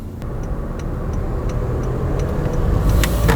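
Honda HR-V accelerating on an empty road, a steady cabin drone of engine and road noise building slightly in loudness over a few seconds, close and without talk.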